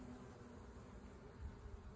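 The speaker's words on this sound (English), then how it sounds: "once I shut up, you can hear the bees humming" A soft, continuous hum of bees buzzing nearby on flowering Palo Verde trees in a backyard, steady and faint, with no voices over it.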